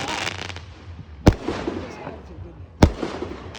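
Two sharp, loud firework bangs go off a second and a half apart at a Fourth of July backyard display, each ringing out briefly over a murmuring outdoor background with some voices.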